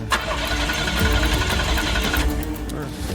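A vehicle engine cranks and catches into a loud, steady running rumble, close by, continuing throughout the brief moment.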